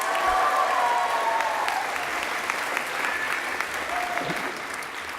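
Class of 2022 students applauding themselves at a 2018 President's Convocation, a dense, steady roar of many hands clapping throughout, loud and sustained with a faint murmur of the crowd.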